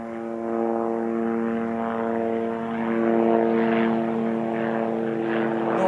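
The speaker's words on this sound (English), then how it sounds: "It's not even a proper helicopter." A light propeller aircraft drones steadily overhead above moorland on Dartmoor, a continuous buzzing engine hum that swells slightly louder midway and holds on with no talk.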